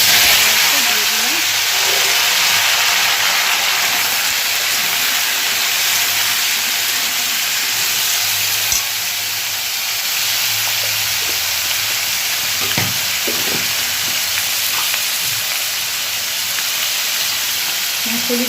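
Potatoes fry in a pan at home, alongside cooking for a pumpkin and potato chhokka, giving a steady, loud, close sizzle and hiss that runs unbroken throughout, with faint clinks now and then.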